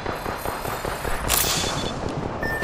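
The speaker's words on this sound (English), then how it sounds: "Getting shot at." Gunfire in an Apex Legends battle rattles in a dense, continuous stream of overlapping shots, with a louder burst around the middle and no voices over it.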